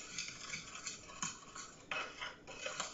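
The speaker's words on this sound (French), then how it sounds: "كنخلط سكر كلاصي مع الزيت" Powdered sugar stirred into oil in a bowl, soft rhythmic scraping and clinks of a utensil against the bowl, faint and close with no voices.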